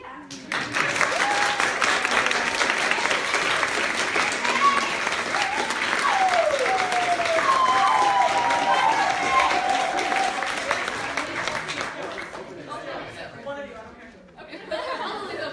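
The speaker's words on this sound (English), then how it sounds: "clap for yourselves" An audience claps for itself in a sustained, dense burst of applause with some laughter and chatter mixed in. A few voices talk over it before it tapers off near the end.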